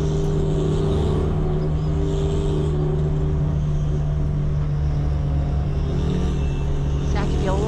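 Race car engine during a formation lap, with a loud, steady droning roar and shifting pitch behind the field of cars, heard from the cockpit with someone talking over it.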